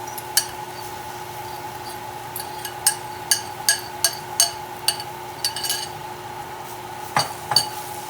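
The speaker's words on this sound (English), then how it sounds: "Then I'll take the fish, incorporate that into the mix" Fish being stirred into an onion and ginger mixture for mohinga, a series of light clinks and scrapes of a utensil against a bowl, evenly spaced and fairly quiet over a steady background hum.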